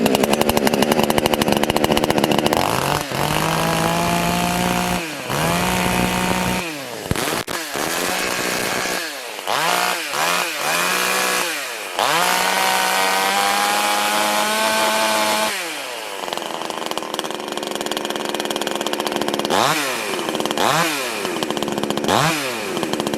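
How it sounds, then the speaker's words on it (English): A Chinese 62cc chainsaw engine revs loudly up close, repeatedly throttling up into a high buzzing whine and dropping back to a rough idle several times. "It sounds more like a saw with steroids or something bad, and it's got a lot of torque when you throttle it up."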